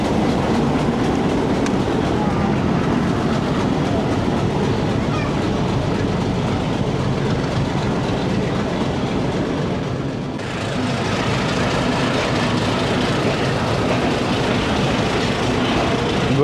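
Pakistan Railways 228DN shuttle train running on a branch line from Multan Cantt to Kot Addu Junction, a loud continuous rumble and rattle of wheels and carriages with a brief dip midway before the noise picks up again.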